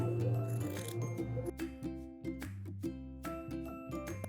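Scissors snip through a single layer of a vintage wool coat at the armhole, giving a series of short, close crisp cuts over a steady low background hum.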